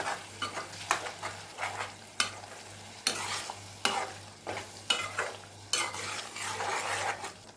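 A utensil scrapes and stirs garlic chutney in a pan in repeated strokes, with a soft sizzle underneath and an occasional clink against the pan.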